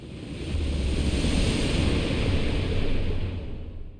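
A muffled, rushing underwater roar as a character plunges into icy water in the video game Rise of the Tomb Raider, swelling loudly for several seconds before thinning out; no voices.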